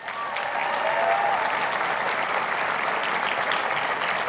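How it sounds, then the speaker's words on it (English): Sustained audience applause at an outdoor law school commencement, dense clapping from a large crowd that holds steady throughout, with a brief whistle near the start. "Please join me in giving our faculty and staff a round of applause."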